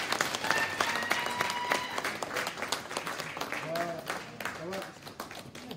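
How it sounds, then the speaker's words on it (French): Congregation applauding at a church deliverance service in Paris: dense, steady clapping from a crowd throughout, with voices and some singing tones rising over it toward the end. "Est-ce qu'on peut acclamer le Seigneur?"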